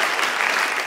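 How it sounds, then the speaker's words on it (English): An audience claps in a dense, steady burst of applause, loud and close, filling the whole short moment without voices. "I don't know why y'all clapping"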